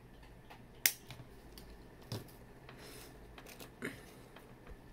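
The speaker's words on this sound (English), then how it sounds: "Snip it." Small scissors or cutters snip wire while jade earrings are being made: a sharp click near the start, then two fainter snips spaced apart, close and quiet.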